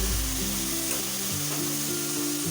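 Tomato puree for pav bhaji sautés in oil with sautéed capsicum, a dense steady sizzle close by, with a faint low hum running underneath and no voices.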